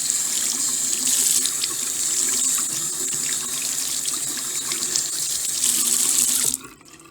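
Makeup sponges rinsed under a running tap, a steady close hiss of water splashing into a sink for several seconds before cutting off abruptly at the end.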